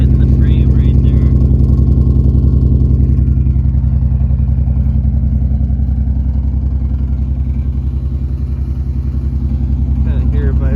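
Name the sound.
Toyota Supra turbo engine idling, exhaust hitting frame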